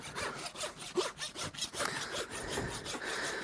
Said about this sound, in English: I'm just using the smooth side of the rasp just to clean up, take any debris off